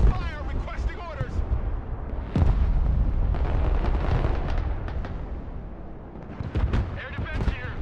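Artillery direct fire in a video game booms out in several heavy blasts with rumbling tails, the loudest landing midway, overlapping one another amid continuous battle noise.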